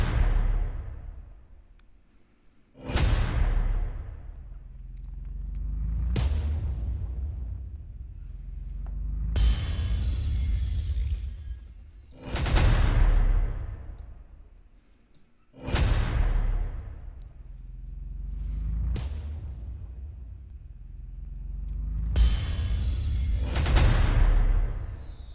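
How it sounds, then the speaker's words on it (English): Cinematic impact effects programmed in FL Studio Mobile hit about eight times in an even pattern. Each is a deep booming hit that rings out and decays slowly, loud and close, with occasional swooshing accents. "So what I did is I first started off with repeating these impacts, and it sounds like this."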